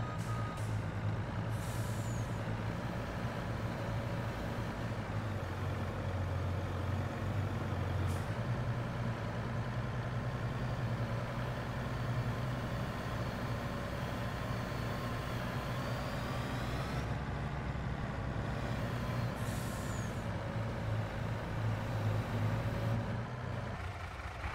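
A green ambulance engine drones steadily at a low, constant pitch as it drives in Farming Simulator 22, with a couple of brief sharper hisses partway through and no talking.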